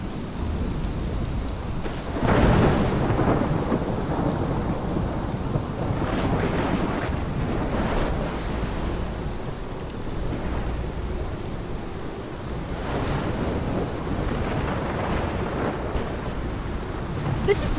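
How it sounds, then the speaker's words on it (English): Heavy rain pours steadily through a thunderstorm in the video game Life is Strange, with loud rumbling thunder cracks rolling in at intervals over the constant downpour. "This is my storm."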